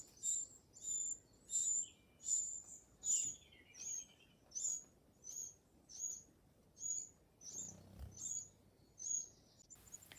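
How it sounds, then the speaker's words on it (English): A wren calls at its garden nest with a rapid series of bright, high chirps repeated in regular bursts, close and clear against a quiet background. "I think she's a wren."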